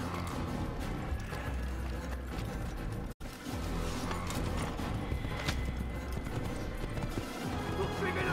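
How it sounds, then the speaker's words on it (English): Rapid hoofbeats of a galloping horse in Assassin's Creed clatter continuously, with brief muffled voices and a short dropout midway; the sound is game-like and close. "Well, my horse comes through here."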